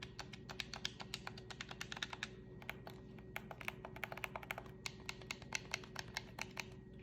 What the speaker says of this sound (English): You can kind of hear the click of the buttons there.